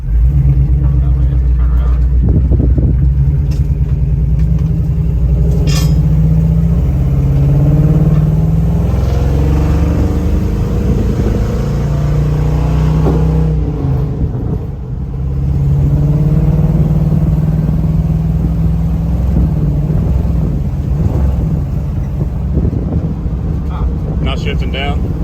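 A K5 truck with an LS engine swap runs and drives, a steady low engine rumble with some wind buffeting and gear changes, while people talk inside the cab throughout.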